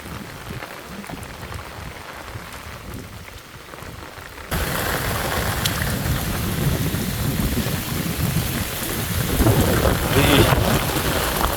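Heavy rain pours down during a night thunderstorm in a village while people are out fishing, a dense roar that jumps louder partway through, with rumbling thunder beneath.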